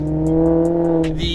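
A Maserati GranTurismo MC's engine revs loudly and close with a rich, sustained roar, its pitch holding steady before climbing sharply as it revs higher near the end.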